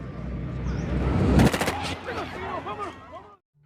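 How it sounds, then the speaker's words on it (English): Police gunfire in a film: a quick cluster of loud shots bursts out of a rumbling, tense scene, followed by chirping, warbling tones as the sound fades out. "the police shot him dead"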